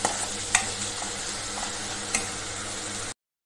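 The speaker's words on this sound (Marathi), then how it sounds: "आता जरा तेल सुटत तोपर्यंत आलं लसूण पेस्ट चांगलं परतून घेऊया तेलामध्ये" Ginger garlic paste sautés in oil in a pan, a steady soft sizzle with a few sharp clicks of a spoon stirring, close and moderately quiet, no talking.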